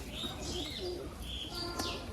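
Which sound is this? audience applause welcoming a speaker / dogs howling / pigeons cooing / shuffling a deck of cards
pigeons cooing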